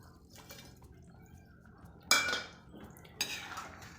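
Manchurian balls drop into thickened, boiling gravy in a pan, giving two sharp splashy clatters against a quiet background of faint bubbling and utensil sounds.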